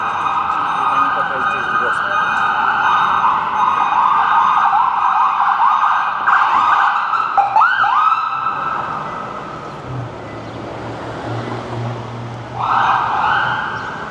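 An ambulance siren wails loudly nearby on a downtown Toronto street, rising and falling over steady traffic, fading somewhat midway before swelling again.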